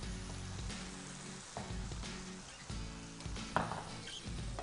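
Chicken frying in a pan during a cooking show, a steady broadband sizzle running continuously with a few brief stirring clatters, close and moderately loud, no talk.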